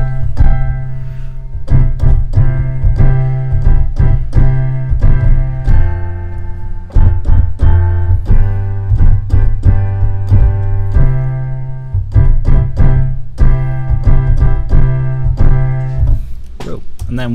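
Keyboard chords ring out in a steady combined rhythm, sustained harmonies punctuated by repeated sharp re-strikes, loud and close, with no talking over them.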